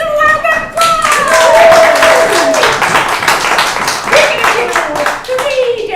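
Audience at an improv comedy show clapping loudly for the cast taking the stage, dense close applause with whoops and cheering voices throughout.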